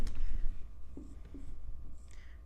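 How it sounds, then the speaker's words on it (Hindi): Chalk scratches and taps on a classroom board while a Class 10 geometry theorem is worked through, a few short strokes heard close over low room noise. "मैं यहाँ पे थोड़ा सा लिख दूँ"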